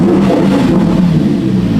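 A Lamborghini Huracan engine is floored against its soft rev limiter. It holds a loud, steady, high-revving drone close by, with slight pulsing as the limiter bounces it back.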